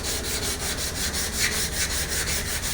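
Wood being sanded by hand with 180 grit sandpaper, a steady rhythmic scratchy rubbing of repeated back-and-forth strokes, close and continuous with no voices.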